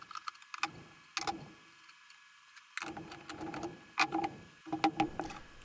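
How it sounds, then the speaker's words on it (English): A large wrench loosening and disconnecting the air conditioning lines on a third-generation Camaro, heard as scattered metallic clicks, taps and ratcheting ticks close by, with quiet gaps between bursts and no talking. "the lines can be disconnected using a large wrench"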